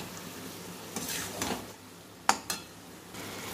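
Lentils with a little added water are stirred in a pan, with soft scraping and two sharp clicks of a utensil against the metal, close and fairly quiet.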